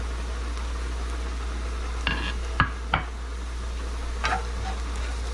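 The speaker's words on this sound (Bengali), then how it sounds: "জিরাটা ভাজা হোক," Cumin seeds fry in hot oil for a Chana Batura dish, giving a steady low sizzle with a few sharp clicks and stirring knocks near the pan, no voices.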